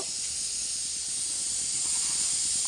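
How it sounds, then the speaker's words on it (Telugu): Cumin seeds sizzle in hot oil in a cooking pot, a loud, steady, close hiss that holds without a break. "ఆయిల్ వేడెక్కింది కొంచెం జీలకర్ర"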